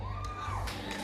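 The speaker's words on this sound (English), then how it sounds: "One more round of applause, everyone, for the President of Liberia" Crowd cheering and whooping at a Pan-African diaspora gathering for the President of Liberia, a short burst of voices and applause with a held tone over the roar.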